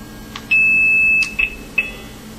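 A steady 2600 Hz supervisory tone sent down a telephone test line sounds alone for about three-quarters of a second, followed by a few short chirps at the same pitch.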